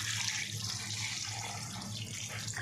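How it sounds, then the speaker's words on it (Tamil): A kitchen tap runs steadily, filling water for washing two kilos of raw chicken, with a soft continuous splashing stream heard close by and alone. "முதல்ல தண்ணி பிடிச்சிக்கலாம்"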